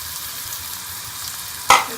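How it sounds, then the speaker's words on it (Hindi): Hot ghee in a kadai sizzles quietly and evenly before onions drop in, and a sudden louder crackling burst near the end marks the onions hitting the fat for beef salan. "हमारा घी गर्म हो गया। अब इसके अंदर मैं प्याज डाल दूंगी।"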